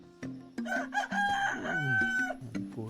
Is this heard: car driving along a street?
no